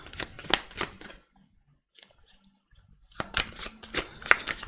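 Tarot cards are shuffled close up in two bursts of crisp riffling flutter separated by a brief near-silent gap with faint handling clicks, with no talking.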